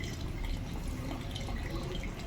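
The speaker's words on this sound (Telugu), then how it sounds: "చిల్లుల గిన్నెలో పోసేసాను." Water drains and drips steadily from cauliflower pieces in a perforated colander, making a continuous close trickling wash with no talk.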